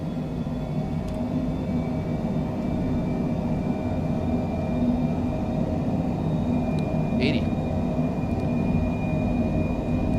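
Light aircraft engine held at takeoff power through the takeoff roll, a steady loud droning roar with constant low rumble and a faint whine, continuous and close throughout.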